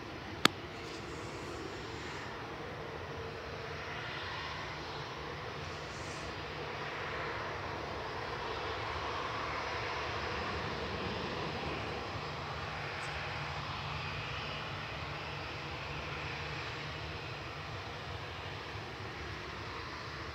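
Jet engines of a Gulf Air Boeing 787-9 Dreamliner at Manchester Airport hold a continuous, moderate roar with a low rumble as the aircraft readies to line up, with a brief click at the start and no talking.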